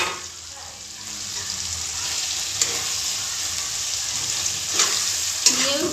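Meat masala with tomato, green chilli and ginger paste fries in oil, a continuous close sizzle punctuated by a few sharp scrapes and taps of a spoon stirring the pan; no voices.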